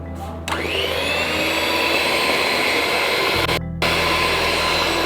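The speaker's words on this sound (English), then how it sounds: "I don't have to mix the egg before I add it into it, so the mixer will do all the work." An electric mixer beating cake batter as eggs are added, a loud steady whirring drone that starts abruptly, runs continuously and briefly cuts out before resuming.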